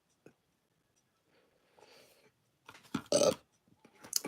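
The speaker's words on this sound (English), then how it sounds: "Apologies for my burping" A person burps softly into a microphone indoors, a faint low rumble followed by a louder, brief throaty belch burst, with a few quiet mouth sounds around it.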